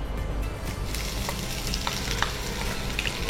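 Onions with cumin seeds and curry leaves frying in hot oil for a rice-flake chitranna, a steady close sizzle with faint crackles and stirring scrapes, no voices.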